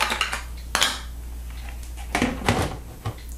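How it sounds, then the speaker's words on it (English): A plastic lid set loosely on a home brew fermenter from a Coopers micro brew kit, giving several close, sharp clacks and knocks with a brief rattle, no voices. "we'll just loosely place the lid"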